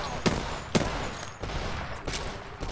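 Gunfire in the Apex Legends video game, with several spaced shots rapping out in an irregular series over a dense, steady game background, close and fairly loud.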